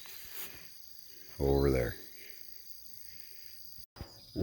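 Tree frogs call outdoors about an hour before sunset at a hog hunt, a steady high-pitched trilling chorus running throughout, with a brief spoken phrase and a low rumbling thump partway in.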